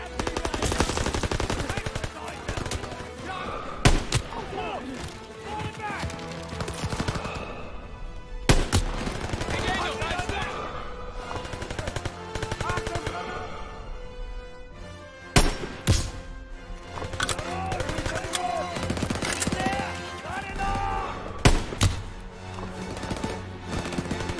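Battle gunfire in the World War II shooter Call of Duty WWII, with rifle and machine-gun fire rattling continuously and sharp louder shots cracking out at intervals, layered over a constant dense din of combat.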